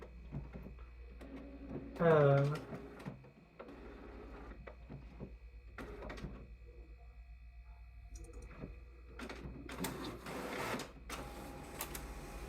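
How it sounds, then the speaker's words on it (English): An office printer runs with mechanical whirring, clicking and feeding noises in uneven bursts, one louder burst early on, with a voice speaking nearby. "We're not printing anything, printer."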